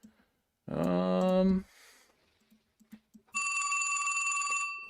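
A telephone rings steadily and clearly for over a second near the end, after a brief burst of a nearby voice and a few faint clicks.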